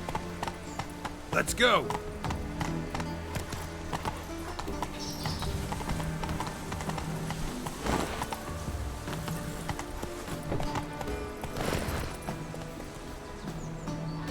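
Roach, Geralt's horse in The Witcher 3, trots with a steady rhythmic clip-clop of hooves, close and clear, mixed with background music and someone speaking briefly.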